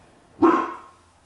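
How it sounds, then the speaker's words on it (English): A single sharp bark from a pet dog named Aurora in a home kitchen, loud and close, followed by quiet with a faint noise at the end. "Aurora, that's my dog."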